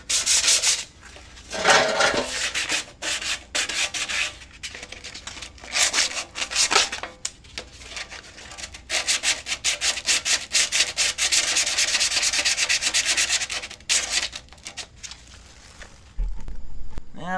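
Hand sanding of a Corvair car part with sandpaper, steady rasping strokes that come in rhythmic bursts with short pauses, loud and close, with no talk.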